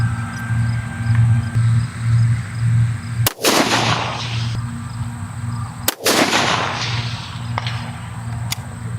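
Two loud, sharp rifle shots fired from a tripod rest outdoors, spaced a few seconds apart, each a close crack trailing into a long rolling echo, over a steady low background hum.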